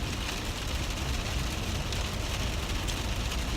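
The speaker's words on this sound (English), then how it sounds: "it's raining" Rain pattering on a car while driving in wet weather, a dense, loud, continuous wash of drops on the body and windshield with road rumble underneath, no voices.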